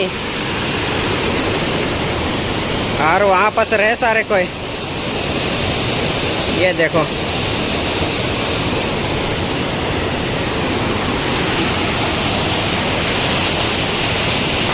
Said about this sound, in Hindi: तो ये रहा वो फॉल, देखो क्या ही प्यारा दिखाई दे रहा है भाई साहब।